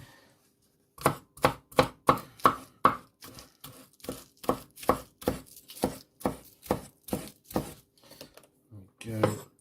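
A knife chops spring onion on a cutting board for a mac and cheese topping, about twenty crisp, evenly spaced strokes at a brisk rhythm, close and loud, ending in a short scraping clatter.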